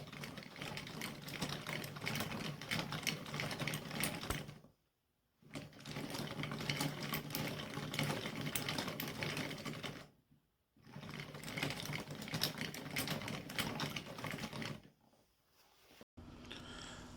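A hand-cranked wooden chain runs over wooden sprockets with a steady, close, rattling clatter. It stops briefly three times, then starts again.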